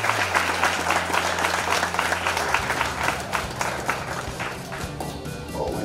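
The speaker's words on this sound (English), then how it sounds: "nice round of applause for the beautiful princess" Round of applause for the birthday girl at a quinceañera, a dense crowd clapping steadily throughout, with a low hum fading out partway and some faint voices beneath.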